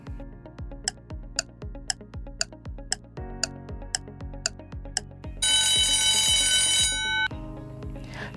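A quiz countdown timer beeps steadily about twice a second with a descending tone under each beep, then a loud ringing alarm buzz bursts in near the end before the ticking resumes.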